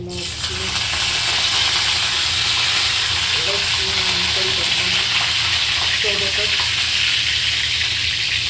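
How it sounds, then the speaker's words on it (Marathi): Cumin and mustard seeds sizzle and crackle steadily in hot oil for a cauliflower curry, a loud continuous frying hiss with faint popping and a voice briefly heard over it. "मी जिरा आणि मोहरी टाकलेला आहे"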